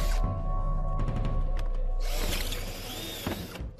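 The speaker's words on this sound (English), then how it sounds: "Fraser can't resist drilling holes in that spare tank" A power drill bores holes in a spare metal tank at a scrapheap fire-engine build, with a whirring motor under clicking and grinding that grows to a loud harsh cut.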